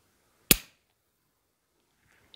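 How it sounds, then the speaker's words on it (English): A single sharp crack and hiss as a can of Cambodia beer is popped open, close and loud, followed by quiet. "the sound of a can of Cambodia beer being opened"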